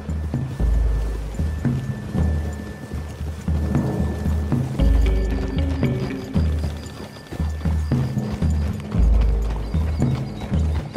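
Horses gallop through woodland in the Western game Red Dead Redemption 2, hoofbeats pounding in a fast, continuous rhythm, loud and close, with little talk.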